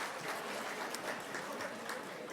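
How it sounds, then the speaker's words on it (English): Faint, steady clapping from a gala dinner crowd applauding SES emergency service volunteers, heard from some distance as a soft, continuous patter without speech over it. "Can we give a round of applause to Jeff and all the SES members"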